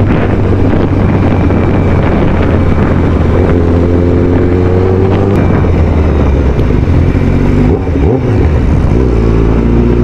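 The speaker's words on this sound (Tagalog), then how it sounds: "Tunog lang ng ating motor," A Rusi motorcycle engine drones steadily while being ridden. The engine is loud and close, covered in heavy wind buffeting, and its pitch rises and shifts midway and again near the end.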